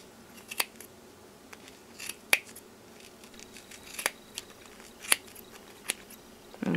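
Sharp scissors snip through yarn in a few separate crisp cuts spaced about a second apart, close and clear over a quiet room.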